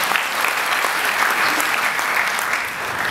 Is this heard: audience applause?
yes